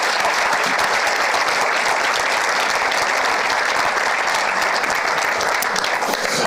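An audience at a makeathon final pitch event applauds steadily and loudly, with dense continuous clapping throughout.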